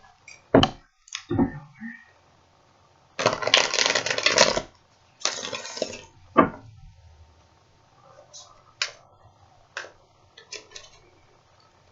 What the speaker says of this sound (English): I'm just going to shuffle for a moment